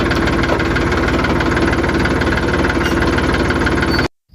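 A tractor engine chugs at a steady, loud idle close by, its rhythmic diesel knock continuing until it stops suddenly at the end.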